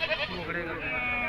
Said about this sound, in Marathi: बघ मोठ्या मापाच्या शेळ्या गावरान